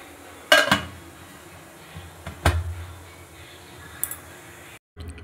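Metal idli plates set down into a pot of already-hot steaming water, with a couple of sharp clanks and a scrape, then quieter knocks of metal, close and alone without talk.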